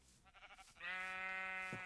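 A single sheep bleat from the Minecraft video game rings out, a sustained nasal tone lasting about a second and preceded by a short wobbling onset, fairly quiet and heard alone.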